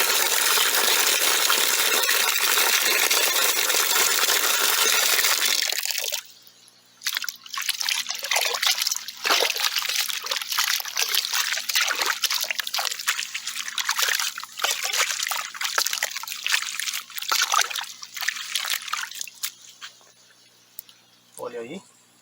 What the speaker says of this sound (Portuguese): Eu vou dar uma ligeira mexida aqui na água, vocês vão verificar como ela vai ficar marrom.